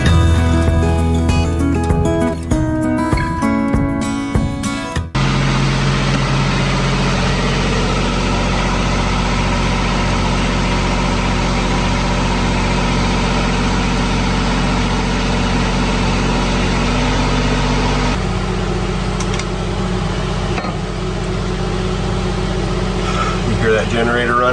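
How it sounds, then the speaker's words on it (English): A generator runs aboard a sailboat, producing a loud, steady, continuous drone that persists unchanged after a brief stretch of other sound at the start. "You hear that generator running?"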